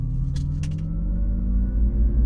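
A low, steady hum from a Rivian electric truck rises gently in pitch as it accelerates, with a few brief clicks near the start.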